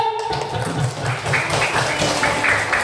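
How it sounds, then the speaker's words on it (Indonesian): Brief classroom applause from students, scattered quick claps filling the room, fairly close and loud, with faint voices mixed in. "Mana tepuk tangannya dulu?"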